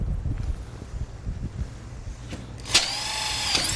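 A power drill whines up near the end, high and steady, after scattered knocks and low rumbling handling noise, drilling during a DIY plant-holder build with Conwood boards.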